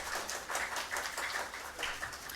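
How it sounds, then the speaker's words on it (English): Audience applause for a speaker named Marcus at a climate action event, a steady wash of clapping from a crowd lasting a couple of seconds, moderately loud without any talk over it. "A round of applause for Marcus, please"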